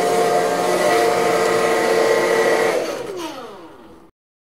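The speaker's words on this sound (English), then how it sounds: "I'm going to go sit under the dryer for about 15 minutes" A hood hair dryer runs with a steady loud whirring roar, close and alone, then winds down and stops near the end.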